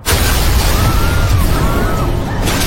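A loud, sustained roaring blast with heavy low rumble filling the whole stretch, like an explosion and its aftermath.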